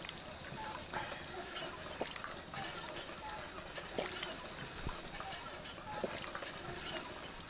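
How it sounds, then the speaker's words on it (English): Water pours and trickles from a hand pump in the game Fallout 4, a soft steady splashing stream with faint periodic clinks, quiet and continuous. "And let's have a drink from the water pump."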